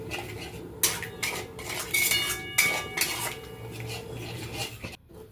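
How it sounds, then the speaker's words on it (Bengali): Vegetarian potato curry (aloo dum) being stirred in a pan, with a spoon scraping and clinking against the metal in steady, close strokes that keep going throughout, then a brief pause near the end. "তারপর খুব ভালো করে নাড়াচাড়া করতে থাকবো।"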